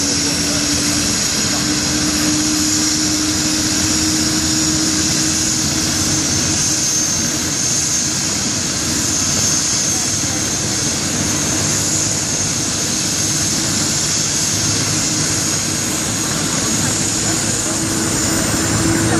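Civil security helicopter taking off nearby, a loud steady roar of turbine and rotor that holds without a break throughout.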